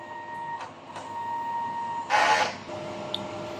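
A DTF printer runs a print head cleaning cycle with a steady electronic hum and tone, a couple of soft mechanical knocks, then a brief louder whirring burst from the pump and carriage before settling back to a quiet hum.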